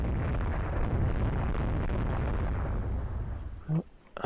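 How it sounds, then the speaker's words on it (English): Naval guns fire from a ship in the naval strategy game RTW2, a sustained rumbling roar of explosions followed by a couple of sharp bursts near the end. "Unknown ship is firing."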